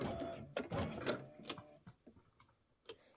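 An embroidery machine stitches a quilt block, giving a quiet mechanical whir broken by short rhythmic clicks and taps that fade toward the end.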